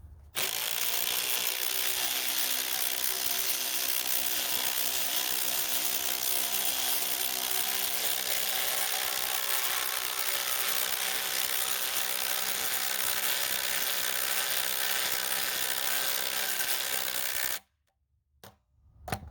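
Ryobi compact impact driver driving screws, a loud, dense, continuous rattling hammer that runs steadily for about seventeen seconds, then cuts off abruptly into near silence.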